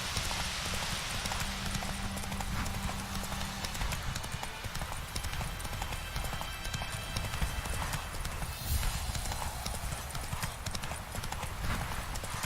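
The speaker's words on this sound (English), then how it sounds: "Whoa there, Roach." Galloping horse hooves from The Witcher 3: Wild Hunt, a steady fast clip-clop rhythm running continuously over a dense wash of game ambience, with a faint whinny.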